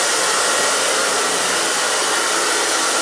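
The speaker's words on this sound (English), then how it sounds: "you can see how I dry it, and it takes just a couple of seconds to dry it and style it" A hair dryer blows steadily and loudly at close range while drying and styling a short, sleek haircut, a continuous broadband whoosh with no voices over it.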